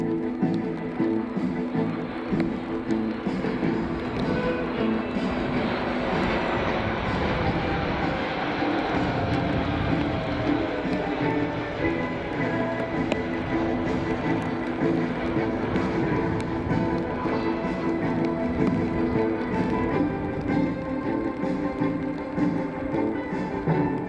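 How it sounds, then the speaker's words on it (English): A KC-135 and a C-17 fly in formation at the 2024 ROC Airshow in Rochester, New York, a continuous loud jet engine roar that holds steady throughout, with faint talk over it. "Here they come now, the KC-135 and the C-17 in the pre-contact position."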